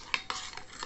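A spoon scrapes and swirls through a bread mixture with milk powder in a bowl. It gives a few quick, close stirring strokes, quietly and with no speech.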